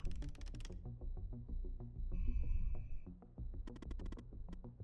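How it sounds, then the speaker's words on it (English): Rapid keystrokes on a computer keyboard clatter in quick bursts, pausing briefly mid-clip while a thin electronic tone sounds, then resuming in a fast run of taps. "Oh, live typing"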